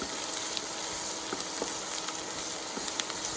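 Brussels sprouts and onions sauté in a pan with a steady, soft sizzle and frying crackle, broken by small pops and stirring clicks, heard close and alone without voices.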